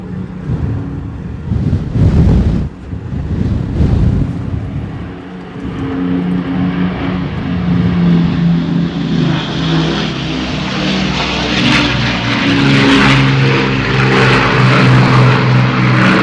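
A propeller aircraft makes a gear-down pass at an air display, its engine drone swelling from a distance into a loud, sustained roar as it passes overhead, with wind buffeting the microphone.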